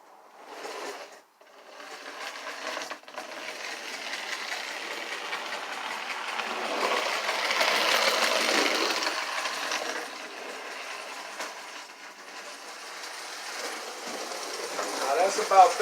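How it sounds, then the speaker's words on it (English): A Marx-powered prewar American Flyer toy steam engine runs with a steady mechanical whir and rattle of motor and wheels. It grows gradually louder, with brief dips near the start, and no clear talking. "Now I'll let you see this engine run."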